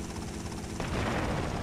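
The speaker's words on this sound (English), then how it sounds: "I love hearing that satisfying crash when the helicopter hits the ground." Helicopter crash in the video game Grand Theft Auto: Vice City Stories: a pulsing rotor drone gives way midway to a loud, broad, sustained rumbling crash, close and heavy.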